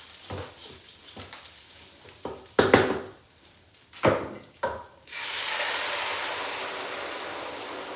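Stock from a cooked-meat sauce is tipped into a pot of rice for a Nigerian meal-prep dish, with a few clinks of pan and utensil before a steady, close pouring hiss and sizzle that runs through the second half.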